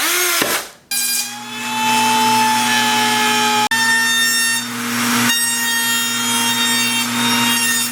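A bandsaw rough-cuts wood for a broken guitar headstock repair, a loud steady motor whine with a bright blade ring that dips briefly as the cut starts and near the middle, close and continuous, no talking.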